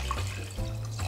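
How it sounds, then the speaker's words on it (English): Water is poured into a pot over cleaned beef short ribs for Korean galbitang, making a brief, close, steady splashing gush. "Place the clean ribs in the pot and add water to cover."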